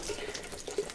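Water poured onto potted flowers, a brief soft trickle and splashing with a few small drips, close and fairly quiet over about a second.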